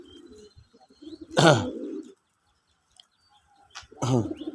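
Native domestic pigeons on a small pigeon farm give two loud, close throaty coos separated by a quiet pause, with faint chirps and soft background rustle between them.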